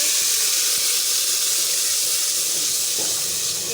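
Onion paste hits frying chickpeas in a pan with a loud, steady sizzle and hiss that stays constant throughout. No one speaks over it.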